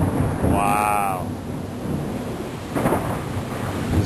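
Thunder during a heavy rainstorm, heard from a porch: deep rumbling thunder rolls under wind noise and steady rain, close and loud, with a brief tonal chirp early on.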